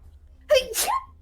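A single short sneeze, close and fairly loud, with a brief voiced catch before the burst.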